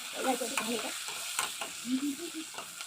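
Onions and chilli with paneer biryani masala frying in a pan: a quiet, continuous sizzle broken by spoon-stirring scrapes and clinks.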